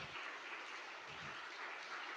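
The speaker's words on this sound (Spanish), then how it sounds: "Denle un gran aplauso al Señor" A church congregation applauding during a Sunday service, a steady, even wash of many hands clapping, heard faint and from a distance.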